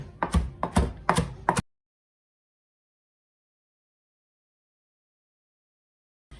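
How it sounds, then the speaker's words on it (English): A knife chops fresh basil on a board with four quick, close, crisp strikes in a burst, then near silence and a faint final knock. "I'm just gonna give these a good chop the way I'd like them chopped for my food"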